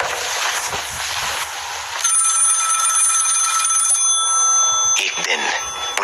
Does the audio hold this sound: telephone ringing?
yes